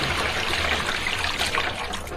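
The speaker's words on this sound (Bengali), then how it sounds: "মশারির দ্বারা ছেঁকে একবারে কিন্তু এর মধ্যে" Fresh date palm sap in a Sundarbans village pouring through a mosquito-net strainer into a tin, a steady close trickle and splash without pause.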